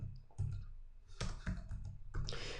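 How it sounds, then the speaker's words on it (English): Quick bursts of clicking keystrokes on a computer keyboard, typing a word into a Windows search box, close and clear with short pauses between clusters of keys. "I'm just going to start typing Microsoft."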